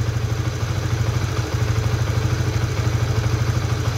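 A Honda Supra GTR 150 motorcycle engine, six years old, idles close by with a steady, even rhythmic thrum and light mechanical clatter, running smoothly throughout.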